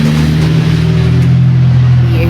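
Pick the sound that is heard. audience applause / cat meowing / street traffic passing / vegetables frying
street traffic passing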